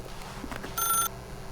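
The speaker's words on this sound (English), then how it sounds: "As Stanley picked up the phone" Telephone handset lifted in The Stanley Parable video game, a short bright electronic tone burst lasting about a third of a second, heard alone at moderate level.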